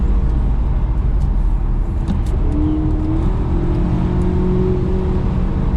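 An Audi A5 TFSI turbo petrol engine hums and rises in pitch as it accelerates, heard from inside the cabin over steady road noise, with a faint whine.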